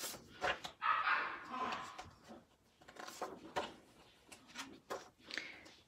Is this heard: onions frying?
no